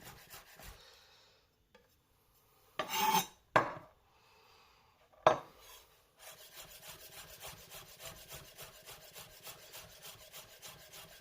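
A knife slices garlic cloves finely on a wooden board for a homemade tomato sauce, giving a few loud scraping rasps early on and then a steady, close run of quick rhythmic chopping taps that continues to the end.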